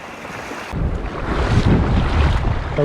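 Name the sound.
waves breaking on a shallow sandy beach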